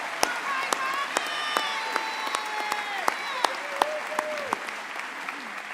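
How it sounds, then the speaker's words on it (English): A crowd applauds at a high school commencement ceremony, with steady clapping throughout, some sharp individual claps, and voices speaking and calling out over it. "Please join me in a round of applause for all of our distinguished guests."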